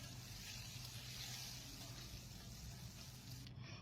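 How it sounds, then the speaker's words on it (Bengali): Rohu fish pieces fry in hot oil in a pan, a steady, dense sizzle with crackling spatter that holds evenly throughout, fairly quiet and close. "এবার আমি মাছগুলো ভেজে নিচ্ছি।"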